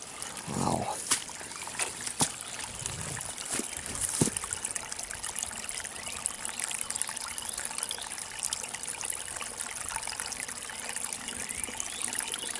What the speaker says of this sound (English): if I was trying for a waterfall sound, I would have achieved that